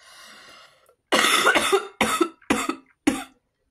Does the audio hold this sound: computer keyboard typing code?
no